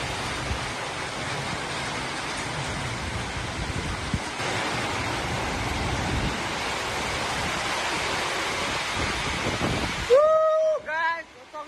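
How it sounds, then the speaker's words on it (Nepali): A windstorm with rain roars in a steady, loud rush of wind and falling water that fills the air for about ten seconds, then breaks off into a few short, clearer sounds. "कस्तो हावाहुरी पानी आएको छ"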